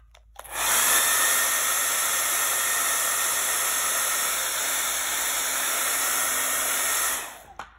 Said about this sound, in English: Let me just blow it dry real quick.